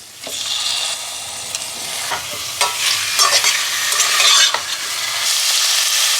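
Chicken pieces, just added to well-fried onions for mustard chicken, sizzle loudly in a pan while a spoon stirs and scrapes them, with a continuous close frying hiss and irregular clatter, and no talking.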